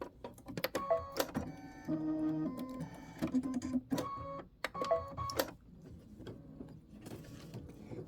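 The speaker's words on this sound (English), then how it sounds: "That's 2 minutes of stitching to do the satin stitch up on the roof." An embroidery machine satin stitching a roof detail on a sewn quilt block, rapid rhythmic needle clatter in bursts with short pauses and changing pitch, close and clear.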